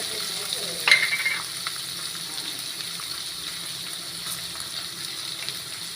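Sliced onions fry and get stirred in a pan for an egg curry, a steady close sizzle with a brief scraping stir near the start and no talking.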